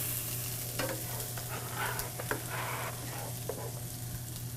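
Chopped onion, garlic and pepper sizzle steadily in a hot pan, with soft stirring scrapes and taps across the sizzle; no talking.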